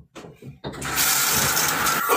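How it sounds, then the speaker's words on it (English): A shower is turned on: after a few quiet, breathy moments, a loud, steady rush of spraying water bursts in and keeps pouring to the end. "All right, let me turn on this water."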